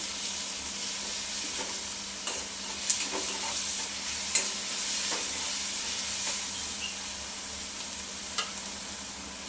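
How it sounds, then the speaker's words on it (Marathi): Onion sautés with ginger, garlic and green chili paste for a chicken gravy, giving a continuous bright hiss and sizzle with a few soft spoon taps. "आता आपल्याला घालायचं आलं लसूण पेस्ट मिरचीची आल्याचा आणि लसूणचा कच्चेपणा जाईपर्यंत आपल्याला हे परतायचं"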